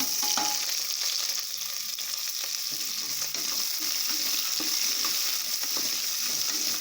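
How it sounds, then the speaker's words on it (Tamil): Sliced onions, green chillies and whole spices fry in oil for brinji rice, giving a steady, fairly quiet sizzle with light crackles and an occasional stirring scrape. "வெங்காயம் வதங்கிக்கிட்டே இருக்கட்டும்."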